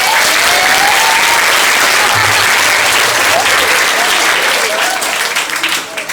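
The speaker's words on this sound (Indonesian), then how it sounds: "Tepuk tangan untuk beliau." Loud, sustained applause from an audience at a motivational training session at an Islamic junior high school in Bekasi, welcoming a speaker; dense steady clapping for about five seconds that thins out at the end, with faint voices mixed in.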